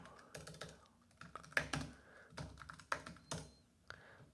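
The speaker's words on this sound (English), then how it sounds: "And let's type in" Fingers tap on a computer keyboard, faint and close, in short uneven bursts of distinct key clicks with brief gaps between them, no talking.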